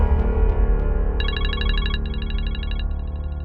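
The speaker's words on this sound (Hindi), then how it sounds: "लो, तुम्हारे अब्बा के फोन पर कॉल आ गई।" A mobile phone ringtone for an incoming call rings out in a fast electronic warbling pattern for about two seconds, then in two shorter bursts, played over a low background hum.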